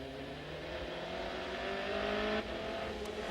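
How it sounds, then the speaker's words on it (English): On-board sound of an Audi race car's 90-degree 32-valve V8 engine at the 2003 Sebring 12 Hours, a steady sustained drone with strong harmonic tones that shift pitch as the revs change, and a brief gear-change break near the end. "that 90-degree 32-valve V8 engine sounding sweet"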